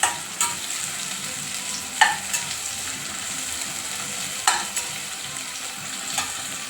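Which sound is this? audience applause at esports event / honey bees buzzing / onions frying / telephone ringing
onions frying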